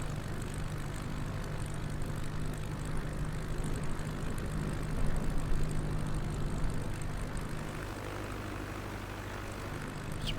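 A light aircraft sits on the runway just after landing on a UK coastal flight, its engine giving a steady low drone with propeller hum heard from inside the cabin, constant and moderately quiet throughout.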